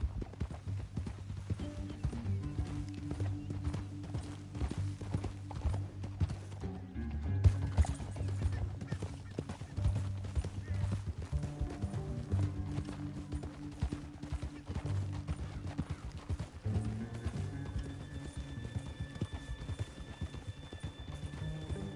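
Rhythmic hoofbeats of horses clip-clopping along in Red Dead Redemption 2, steady and continuous, with a low musical drone and occasional mechanical clinks underneath.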